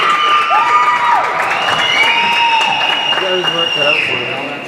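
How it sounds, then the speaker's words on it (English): Crowd applauding and cheering at the 10th Annual DT Make A Wish 100 race, loud and continuous throughout with whistles and shouts mixed in, while an announcer's voice carries over it. "Please give a nice round of applause."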